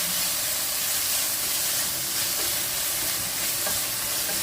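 Chopped medium-size tomato sautéing in a pan for a Tamil Nadu style kadappa curry, giving a steady, even sizzle and hiss throughout with no talking.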